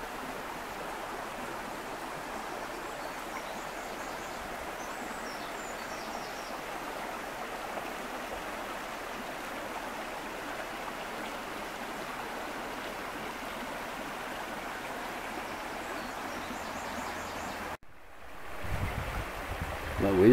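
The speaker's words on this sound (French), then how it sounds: "J'ai déjà découvert un beau et un joli petit ruisseau, regardez-moi ça. Écoutez surtout, puis il y a les oiseaux qui chantent." A small forest stream with iron-rich water flows in a steady, even rush, with faint bird calls now and then above it. Near the end there is an abrupt break, followed by louder, closer handling noise.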